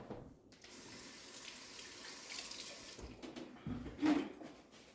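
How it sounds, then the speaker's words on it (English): Kitchen tap running steadily while hands are rinsed, a soft, continuous splashing rush that is fairly quiet and close, with a brief louder splash near the end and no speech. "So I'm gonna rinse my hands real quick."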